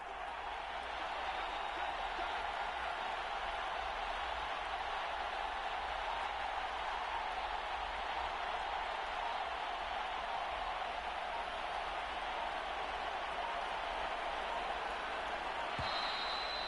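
A football stadium crowd roars steadily and loudly throughout as fans rise to make things difficult before a two-point try, a dense, continuous wall of cheering with no breaks.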